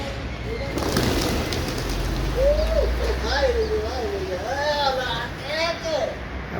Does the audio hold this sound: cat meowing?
no